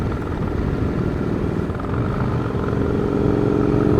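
A motorcycle engine hums steadily while riding a backroad, a continuous mid-loud drone with a slight swell in the final second, no voices.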